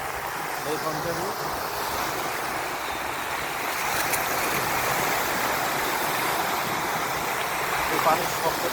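Rough, roaring water on a wind-whipped Lake Ontario, a steady broadband rush of surf that holds at an even, fairly loud level with no talk over it.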